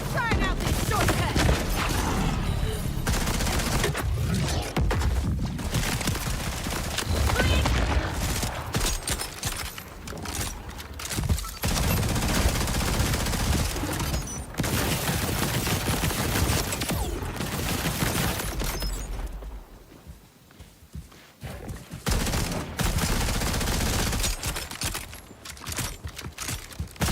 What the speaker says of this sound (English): This gun went off, didn't it?